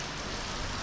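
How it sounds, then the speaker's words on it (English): Steady, dense rainfall from a tropical low near the Queensland coast, a continuous close hiss of drops striking surfaces with no pauses and no voices. "the rain begins."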